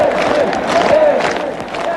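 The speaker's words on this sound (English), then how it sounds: "Boris Yeltsin at one with the cheering crowds" A large crowd cheers and shouts in a dense, continuous roar welcoming Boris Yeltsin in Moscow, loud and steady, with voices rising and falling throughout.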